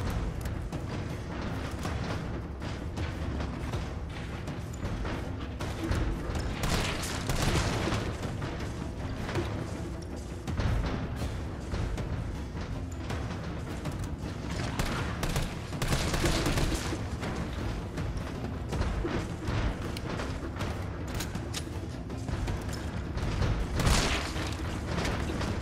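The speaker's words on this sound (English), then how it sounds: "Daj da im šibnem jednu bombicu." Bomb explosions and bursts of gunfire from the video game Resident Evil 3 boom and crackle in a dense, continuous barrage, with several louder blasts standing out.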